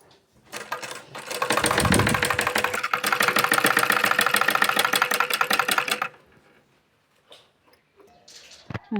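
A sewing machine stitches a blouse in one loud, steady run of rapid mechanical ticking that lasts several seconds and then stops, followed by brief soft handling noises.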